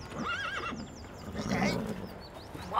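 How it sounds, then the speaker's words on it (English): A horse whinnies in repeated wavering calls in a fairytale farm scene, the neighs fairly close and clear, followed by a soft thud and faint background noise with no speech. "What a fine horse you have there."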